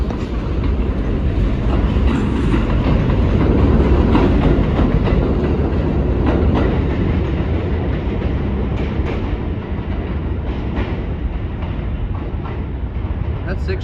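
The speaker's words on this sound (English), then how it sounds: "This train is held still, so we gotta wait" Loud, steady rumble of a New York subway train at Buhre Avenue station in the Bronx, with faint clickety-clack and rail noise, continuous throughout, close by in a station or car.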